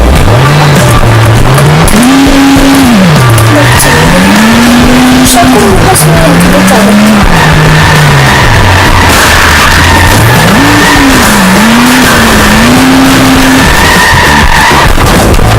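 A racing car engine in a video game revs loudly, its pitch rising and falling through gear changes, with repeated tyre skids and squeals throughout as someone talks over it.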